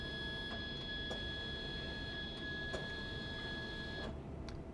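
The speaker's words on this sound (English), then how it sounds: "the printer will now perform a simple label calibration with the new values you established for the sensor" An industrial label printer runs a label calibration, giving a steady mechanical hum with a sustained tone and a few soft periodic ticks, close and fairly quiet, with no talking.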